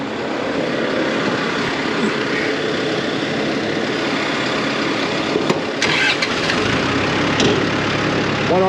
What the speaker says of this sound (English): Crank that tractor.